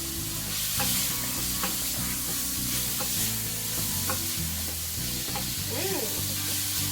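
A lamb stir fry sizzles steadily in a pan with garlic powder sprinkled over it, while a utensil stirs and scrapes in light, irregular strokes; close and continuous, with no voices.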